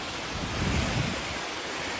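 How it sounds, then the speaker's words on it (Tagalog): Strong typhoon wind roars in a steady broadband rush amid heavy rain, swelling briefly as a gust passes, with no voices present. "na may kasamang matinding hampas ng hangin."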